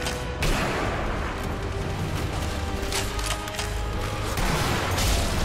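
Gunfire in Sniper Elite V2: a sustained battlefield din of rolling shots and distant booming reports, dense and continuous at moderate level, with no talk over it.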